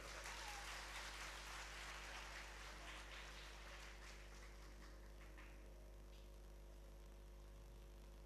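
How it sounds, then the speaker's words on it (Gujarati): An audience at a Bhagavat Katha discourse in Surat claps together in a sustained round of applause that rises, then gradually thins and fades, heard over a steady low hum. "વાહ, એના માટે એકવાર તાળીઓ વગાડો."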